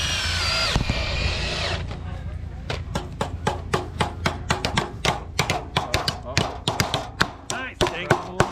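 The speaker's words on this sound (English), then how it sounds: "this is the hammer nail, screw, and a saw event" Hammering and screwing at a timed crew competition event: a fast run of sharp, loud impacts following an opening whir, sometimes with cheering and shouted encouragement.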